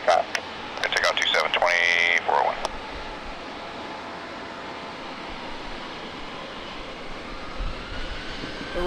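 An airliner at San Diego airport produces a continuous broad engine roar during its takeoff, following a burst of crackly radio chatter with a beeping tone at the start.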